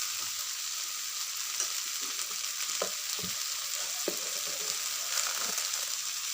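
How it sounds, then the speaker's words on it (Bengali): Soybean chunks and potatoes fry with spices in a pan, giving a steady close sizzle with occasional soft scraping stirs, and no voices. "দেখুন আমার সয়াবিন আলু সব কিছুর সঙ্গে মশলাটা ভালো করে কষানো হয়ে গেছে"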